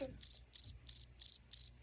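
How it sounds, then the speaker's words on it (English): Crickets chirp in steady, evenly spaced pulses, five or six bright trilling bursts with clean silence between them, used as a comedic sound effect during a sports picks show, heard alone without talk. "Oh, yes, crickets."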